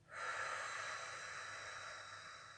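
Someone doing gentle exercise lets out one long, deep breath through the mouth, a close, airy exhale that starts sharply and fades slowly over a couple of seconds.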